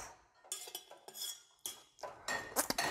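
A spoon is tossed and passed between hands in a craft bartending flair move, giving a quick series of light metallic clinks and rattles, close and fairly quiet, with no talking.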